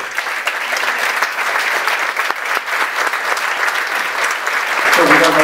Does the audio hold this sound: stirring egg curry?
no